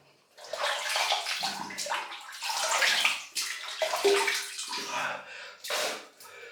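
Running water splashes as hands wet a face before a shave, a steady close gushing with uneven sloshes and pauses throughout, no voices.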